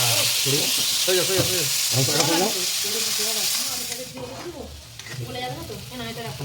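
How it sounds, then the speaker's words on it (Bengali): Potatoes and onions fry in plenty of oil, sizzling steadily and being stirred throughout, with a person talking over the cooking. "আলু ভাজা হচ্ছে চপচপে তেল চপচপে পেঁয়াজ দিয়ে আলু ভাজা"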